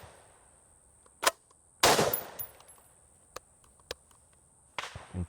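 Chimera blaster firing during a 2000-round test: sharp close cracks, one dense burst among isolated single shots spaced irregularly over several seconds, with quiet gaps between.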